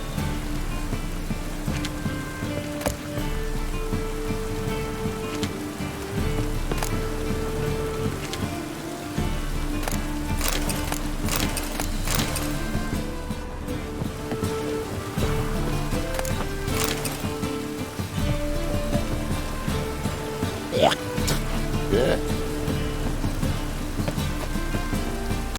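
Rain falling in The Witcher 3 around the city of Novigrad: a steady, even patter and hiss that runs for the whole stretch under a low ambient score, with occasional faint clicks and no voices.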